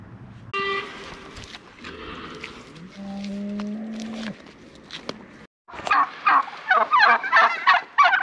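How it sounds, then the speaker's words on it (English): Turkeys gobbling loudly in rapid bursts, a flock close by, with a few honk-like tones and rustling in between. "Turkeys are kind of terrifying."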